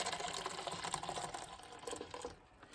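Boiling water poured into a cup for a dye experiment, a close, steady splashing trickle that continues for a few seconds and then tapers off near the end.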